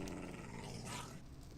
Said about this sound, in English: looks like we got a dog somewhere.